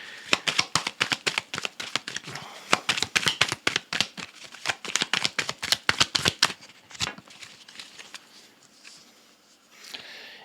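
Tarot cards are shuffled close by in a fast, steady run of crisp riffling flicks that stops at about seven seconds, followed by a few softer card sounds, with no voices.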